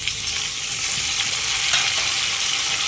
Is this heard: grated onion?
yes